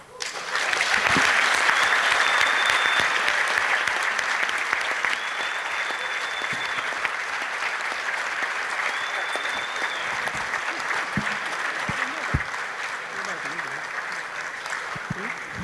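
Audience applause at the closing of a Sahel governance forum, a dense, sustained round of clapping that swells quickly and holds steady for about fifteen seconds, with faint tonal sounds drifting through.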